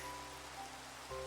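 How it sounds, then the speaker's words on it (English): Steady rain falling in the video game Minecraft, a continuous broadband patter holding evenly throughout at moderate level with a faint tonal hum beneath, no voices present. "sleep to get rid of this rain"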